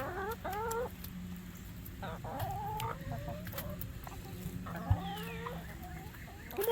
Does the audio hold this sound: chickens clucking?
yes